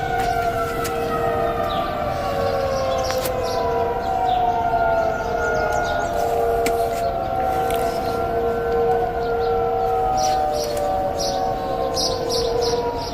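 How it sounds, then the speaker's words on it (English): Rising and falling tornado siren wails steadily across a wooded neighborhood, several overlapping tones sweeping up and down continuously and fairly loud throughout, with no voices. "Some people are saying that this is a tornado siren"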